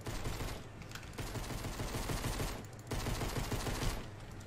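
A minigun in a video game fires in long, rapid bursts, a dense rattling roar that runs almost without pause, with two short breaks between volleys.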